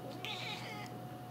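A house cat gives a single drawn-out meow, fairly faint and close against a steady hissy background with a constant tonal hum.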